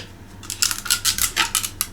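Quick, crisp snips of scissors cut the bottoms off thin plastic cups, about eight closely spaced clicks in rapid, uneven succession, close to the listener.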